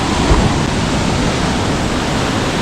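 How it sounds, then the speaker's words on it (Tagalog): Storm-driven ocean waves break on the beach, a loud, continuous roar of surf with no clear gaps between breakers. "Ganito po pagka talagang bagyuhan. Ganito ang alon."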